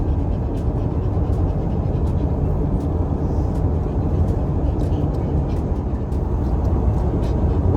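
A car cruising along Interstate 10 across North Florida, a steady, dense road and engine rumble that holds constant from start to finish with no breaks.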